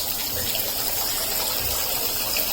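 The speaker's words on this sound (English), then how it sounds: "So fill up the sink with as hot water as you can get." Hot water gushes from a tap into a sink, a constant close rushing hiss that stays even throughout.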